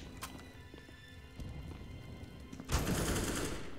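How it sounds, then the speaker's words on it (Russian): Gunfire in the video game CS:GO, a few faint shots early on followed by a loud burst of rapid fire near the end, with no talk over it. "А вот стрельба."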